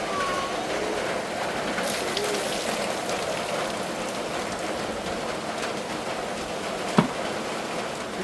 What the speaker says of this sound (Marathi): पाऊस आलेला आहे